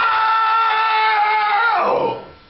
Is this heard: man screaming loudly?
yes